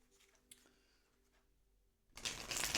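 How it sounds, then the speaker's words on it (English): Light Seers Tarot cards being shuffled, a faint soft riffle at first, then a louder dense rustling burst of cards in the final second. "one more shuffle"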